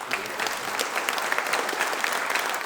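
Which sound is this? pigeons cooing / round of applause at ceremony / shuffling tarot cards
round of applause at ceremony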